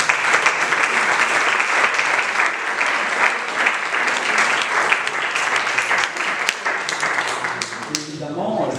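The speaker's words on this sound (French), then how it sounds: "Nous pouvons applaudir notre hôte." Sustained applause from an audience for the host at the end of an evening talk, dense clapping holding steady for several seconds and then tapering off near the end.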